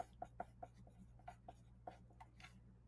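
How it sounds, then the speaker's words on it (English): Pencil scratching on paper while notes are taken, a string of short, quiet strokes and taps at an uneven pace over a steady low hum. "So write that on there."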